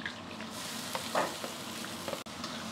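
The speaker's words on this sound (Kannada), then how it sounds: "ಸ್ವಲ್ಪ ಲೈಟಾಗಿ ಬ್ರೌನ್ ಆಗೋ ತನಕ ಫ್ರೈ ಮಾಡಿಕೊಂಡು" Eight to ten chopped onions sizzling and frying in a pan for Bombay rava uppittu, a steady close crackle with a few stirring scrapes, no voices.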